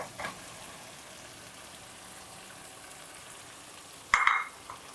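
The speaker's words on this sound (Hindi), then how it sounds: "और अब हम इसको भून लेते हैं, हल्के हाथों से भूनें" Mutton and fried taro root (arbi) stir-fry in a pan with a faint, steady sizzle, broken near the end by a brief clatter of a spoon stirring.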